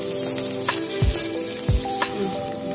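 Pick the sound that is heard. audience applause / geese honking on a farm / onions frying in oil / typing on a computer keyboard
onions frying in oil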